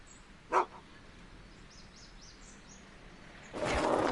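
A dog gives a single short bark near the start, then birds chirp faintly in the background before a louder burst of noise at the end.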